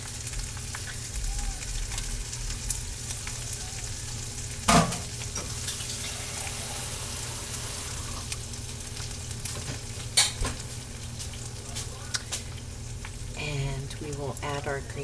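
Canned chicken sizzles and crackles steadily in a frying pan as it is stirred, with occasional scraping clinks, and a voice can be heard briefly near the end.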